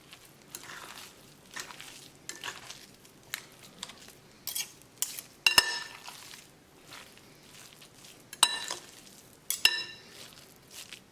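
Dry spices are worked by hand or spoon into a raw lamb chapli kebab mixture, producing quiet intermittent squelches and rustles with a few sharp clicks of a utensil against the bowl, close up.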